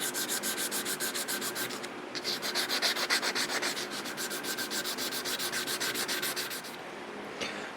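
Sandpaper rubs back and forth over a vintage butcher knife's handle surfaces in a steady, rapid rhythm of close, rasping strokes, with a brief pause partway through and no voices.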